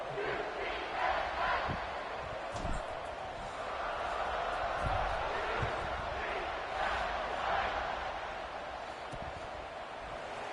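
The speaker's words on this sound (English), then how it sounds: "this crowd is buzzing after that last score" Stadium crowd in the College Football 26 video game, a continuous loud roar and cheering with occasional thumps and shouts throughout.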